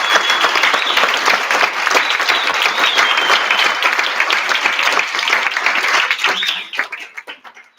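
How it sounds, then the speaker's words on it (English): A dinner crowd at a Race Amity Medal of Honor symposium applauds its three honorees, a loud sustained wash of clapping that thins into a few scattered claps at the end. "let's just give a round of applause for our 3 honorees tonight"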